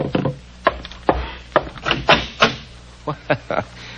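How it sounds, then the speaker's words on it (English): Sharp wooden knocks at a door land in an irregular run of about a dozen raps in an old-time radio drama, close and fairly loud, with brief pauses between clusters. "There's someone at my door."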